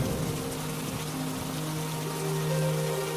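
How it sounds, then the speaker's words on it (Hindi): Heavy rain falling steadily during a summer downpour over a village, a continuous dense wash of drops with a low droning hum underneath, with no voices. "तभी अचानक फिर से भयंकर बारिश शुरू हो जाती है।"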